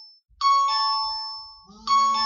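An incoming phone call rings with a bright, electronic two-part melodic ringtone, close and clear, repeating once after a short drop.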